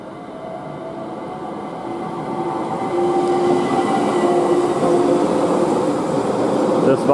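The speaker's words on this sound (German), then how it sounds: "Das war jetzt die S-Bahn nach Telfs-Pfaffenhofen." An S-Bahn commuter train running through Kufstein station, a loud continuous rumble that grows steadily as it approaches, with faint tonal whine and rolling wheel noise and no clear gaps.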